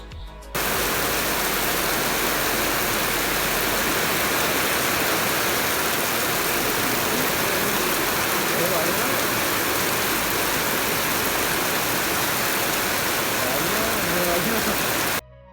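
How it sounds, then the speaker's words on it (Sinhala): Steady heavy rain hisses continuously, a dense, loud wash of sound close by with no pauses throughout, heard from shelter inside a shop. "අපි දෙන්න මේ කඩයක් අස්සට වෙලා හිටියා වැස්ස පායනක"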